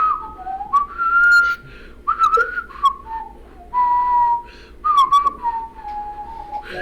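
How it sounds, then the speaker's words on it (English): Someone whistles a wavering tune in several separate phrases, fairly close at first, with pauses between the bursts over a quiet background. "you start to hear a whistling"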